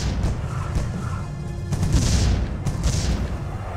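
Cannon towers fire in the tower-defense game Defense Grid: The Awakening, producing heavy repeated booms and blasts over a dense, continuous rumble of game noise.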